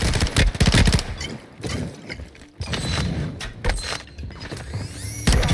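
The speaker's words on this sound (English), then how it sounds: "We do land these first shots" Gunfire in a Call of Duty Warzone Gulag fight, loud bursts of shots opening the exchange and returning near the end, with mechanical clatter and quieter stretches between.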